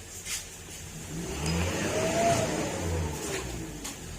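A Yamaha NMAX 155 scooter engine runs steadily close by with a moderate, even drone, rising slightly in the middle; no one speaks.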